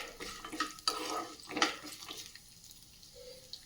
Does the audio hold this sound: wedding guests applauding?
no